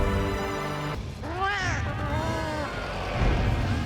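Cats meowing in the video game Monster Hunter Wilds, a few rising and falling mewls over a steady musical drone, with some background noise.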